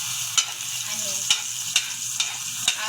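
Garlic sizzles and fries steadily in a hot pan for a monggo dish, with a loud, continuous hiss broken by regular scraping stirs about every half second, and no talking.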